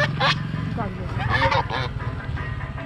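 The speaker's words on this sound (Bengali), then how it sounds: "মোহনার কাছে এসে তিনটে বড় বড় রাজহাঁস দেখতে পাচ্ছি।" Large geese honking near a river mouth at night, several calls repeating over a steady background hum with a voice speaking through it.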